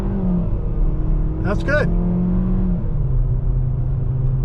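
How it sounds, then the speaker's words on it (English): A 2023 Kia K5 GT Line AWD with an 8-speed automatic pulls away from a stop, its engine a steady low drone heard from inside the cabin, with a brief spoken remark over it. "it brought the car up very, very nicely from a stop to the speed limit on this road"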